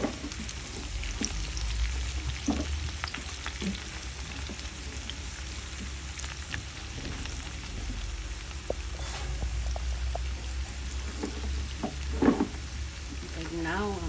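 Garlic frying in cooking oil for adobo sa asin, a low steady sizzle with a constant hum underneath and scattered small pops and stirring clicks throughout.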